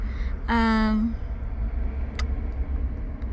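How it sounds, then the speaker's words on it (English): A loud car engine rumbles steadily close by, with a brief tonal honk or whine early on and faint clicks afterward. "there's a loud freaking car"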